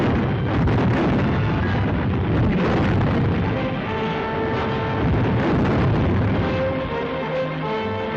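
Artillery guns fire on Suchow during the 1938 Japan-China war, heard as heavy, rumbling booms on an old, muffled film soundtrack. Faint music tones rise toward the end.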